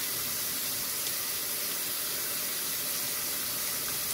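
Steady rushing hiss of water pouring from a tap, constant and fairly close, with no voices.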